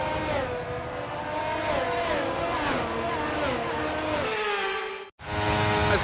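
Formula 1 cars in F1 23 on a formation lap at Monza, with high, whining engine notes rising and falling as they rev and shift, a brief tire squeal, and then an abrupt cut before the engines return.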